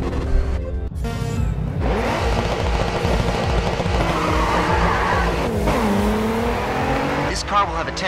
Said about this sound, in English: This car will have a tendency to drift through the corners.